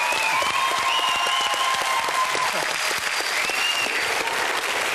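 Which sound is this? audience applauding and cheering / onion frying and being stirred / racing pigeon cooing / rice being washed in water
audience applauding and cheering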